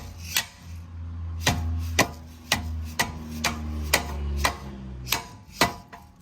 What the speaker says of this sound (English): we're gonna go ahead and hit these bolts out.